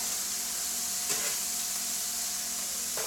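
Mushrooms and onions sizzling in a pan: a steady, even hiss that holds throughout, with one faint scrape partway through.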